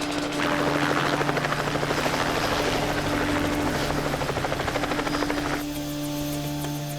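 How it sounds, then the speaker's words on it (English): A helicopter approaches a jade-cutting camp, its rotor beating as a loud, steady, rapid thudding chop with an engine whine throughout. No voices are heard. "Chopper's coming."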